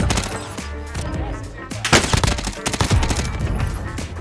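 Bursts of gunfire from the KSP gun in the Warzone video game, sharp loud shots in irregular clusters with a long-range shot, over dense game action noise.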